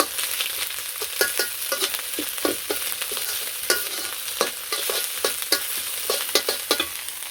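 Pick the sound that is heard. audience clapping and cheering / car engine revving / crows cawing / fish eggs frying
fish eggs frying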